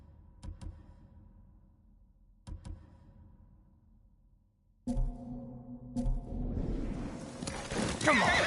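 Nobu, a horse in Ghost of Tsushima, whinnies and snorts amid sharp clicks, then louder galloping hooves and rushing motion noise build toward the end.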